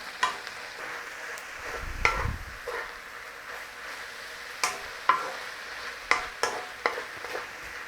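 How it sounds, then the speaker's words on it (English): Beef with garlic and onions frying in a pan, a steady close sizzle broken by sharp scraping stirs and spoon knocks against the pan every second or so. "Start to soften those down, cook the rawness out, and tinge up this beef."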